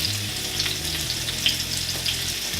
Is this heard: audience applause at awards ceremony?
no